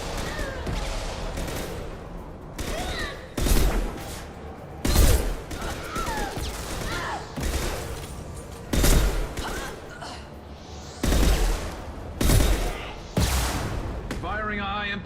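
Heavy, booming high-impact sniper rifle shots from the video game Mass Effect 2, about eight loud blasts spaced irregularly every second or two, each with a sharp crack and low thump, over a continuous bed of game ambience.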